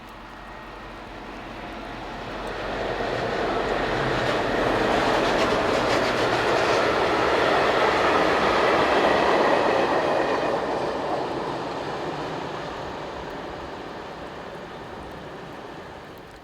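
A Class 2043 diesel locomotive, number 010, draws near a rain-soaked station hauling a daily pickup freight, its engine drone and wheel rumble swelling from afar to a loud, sustained pass before slowly easing off.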